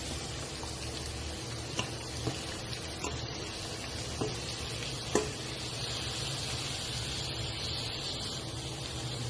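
Chopped cabbage tipped into hot oil over fried onions, sizzling steadily throughout, with a few soft clicks and knocks of a utensil against the pan. No one talks.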